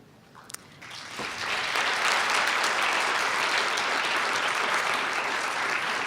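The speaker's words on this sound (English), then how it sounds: "You can applaud now." Applause from a concert audience swells quickly after a few scattered early claps and settles into a loud, sustained, dense clatter of many hands filling the hall.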